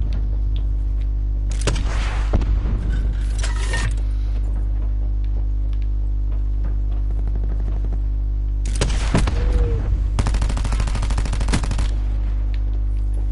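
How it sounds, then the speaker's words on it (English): Rocket impact and bursts of gunfire in the video game Blackout, loud clustered volleys around two and again near nine to twelve seconds, over a steady low electrical hum. "I just hit him with a rocket and then shot him straight after"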